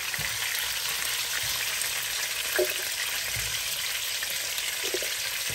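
Pork ribs seasoned with ground black pepper sauté in a pan with a steady, loud sizzle throughout and occasional stirring scrapes, no voices.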